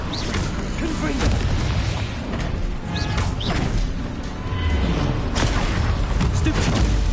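A Confringo fire-blast spell in Hogwarts Legacy bursts amid dense, continuous combat noise, with crashes and booms piling together while a voice shouts spells over them.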